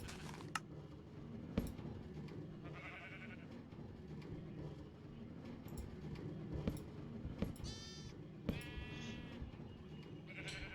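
Sheep in a Minecraft sheep farm bleat in short, close, high wavering calls several times over a soft, steady game background, with no talk.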